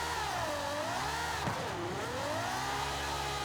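A new Ferrari race car in Forza Horizon 5 revs its engine continuously and loudly, the pitch climbing, dipping sharply in the middle and rising again, with no talking over it.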